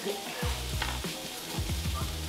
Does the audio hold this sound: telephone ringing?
no